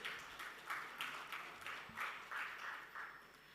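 An audience applauds at a maritime honorary doctorate awards ceremony in Dubai, steady clapping heard faintly from a distance, with light rhythmic swells and no speech.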